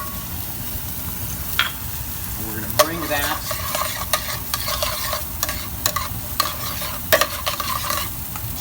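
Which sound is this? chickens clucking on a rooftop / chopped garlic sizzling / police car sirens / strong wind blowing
chopped garlic sizzling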